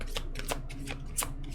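Tarot cards being shuffled in quick riffling bursts, several crisp flutters close by with short pauses between them.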